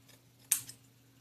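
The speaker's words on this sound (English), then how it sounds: "Now you can cut your tails." Scissors snipping ribbon tails on a handmade bow, a single sharp close cut followed by a faint second click, otherwise near silence.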